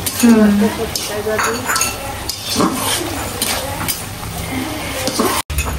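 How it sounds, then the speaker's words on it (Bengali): Vegetables fry in hot oil in a home kitchen, a close sizzle mixed with a spoon stirring and scraping against the pan, while a voice talks over the cooking. "এদিকে তেলে দেওয়া হয়েছে সবজিটা"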